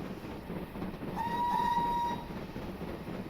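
A train whistle in the Train Simulator game gives one clear, steady blast of about a second over the low rumble and clatter of a moving train.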